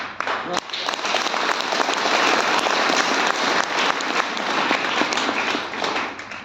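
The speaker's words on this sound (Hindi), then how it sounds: "ये ताली बजाने की बिल्कुल भी बात नहीं थी" Seminar audience bursts into sustained applause, loud and even for several seconds before tapering off, with a faint voice underneath.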